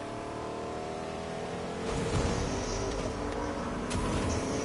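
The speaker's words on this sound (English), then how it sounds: "I heard another car off to our other side" A video game car engine in Fortnite drones steadily, its pitch shifting as it revs up partway through, with a faint whine layered on top.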